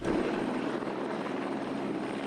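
A helicopter hovering during a cliff rescue near Devil's Slide after a car went over the edge, its steady loud rotor and engine drone continuous and unbroken throughout.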